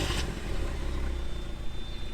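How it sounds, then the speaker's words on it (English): A 1995 Mazda Miata M-Edition (NA) engine idles smoothly and steadily close by, a low, even hum with no voices over it. "Let's hear that engine purr."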